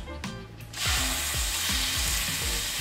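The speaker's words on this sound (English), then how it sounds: "You gotta listen for that sizzle." Loud, close sizzling of food on a hot camping griddle bursts out after a short quiet start and holds steady, with faint rhythmic scraping clicks underneath.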